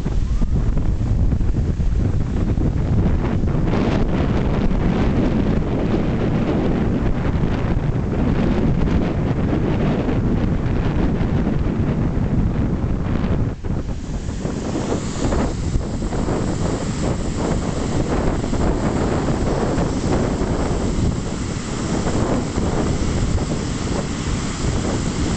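Big surf at Varadero beach in Cuba roars without a break under heavy wind buffeting the microphone, a dense, loud wash of crashing water that stays constant throughout and carries no speech.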